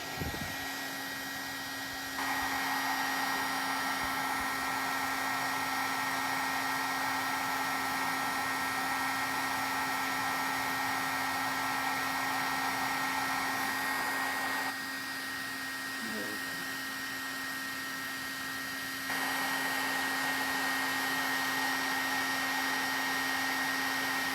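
Heat tool melting embossing powder, a continuous whirring blower hum with a steady tonal drone that cuts out briefly twice and returns, fairly quiet overall.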